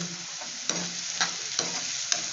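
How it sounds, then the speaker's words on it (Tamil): Onions sauté village-style in a pan for a brinjal and cowpea thokku, with a loud steady sizzle close by and four sharp spoon clacks against the pan at regular intervals. "இது நல்லா வதங்கட்டும் வெங்காயம்"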